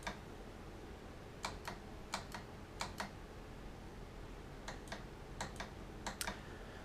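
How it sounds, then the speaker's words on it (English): Shifter paddles on a Fanatec Porsche wheel mounted to a CSW V2 base snap with sharp plastic clicks, fired in quick pairs with short gaps between them, loud against a quiet background. "shifter paddles, it's an issue. They're really clicky."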